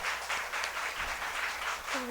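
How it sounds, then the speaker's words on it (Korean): A church congregation applauds a visiting couple, a steady wash of clapping from many hands that lasts about two seconds, fairly close, with a faint voice near the end. "우리 박수로 위로해 주시기 바랍니다"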